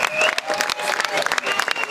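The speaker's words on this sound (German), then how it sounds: "Der Applaus, der gilt für euch" Concert crowd applauding after a band's cover, a steady wash of clapping close and loud, with some voices mixed in through the brief burst.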